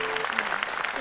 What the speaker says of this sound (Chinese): 也值得大家掌声一下